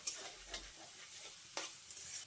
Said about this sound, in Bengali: আমি দিয়ে দিচ্ছি 2টো মাঝারি সাইজের পেঁয়াজ কুচি দিয়ে আমি পেঁয়াজটা নেড়ে চেড়ে একটু ভেজে নেব